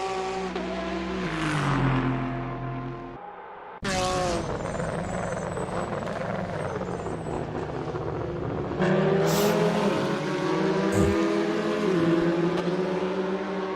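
Race cars in a video game sim race at Virginia International Raceway, engines droning loud and continuous with shifting pitch as cars pass traffic, a brief break near four seconds, then steady revving again.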